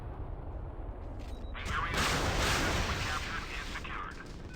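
Gunfire from a naval battle in the warship combat game Modern Warships swells into a dense, roaring burst midway, then tapers off into a continuous noisy rumble.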